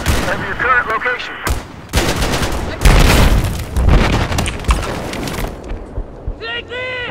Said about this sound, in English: You have a machine gunner operating north of your current location.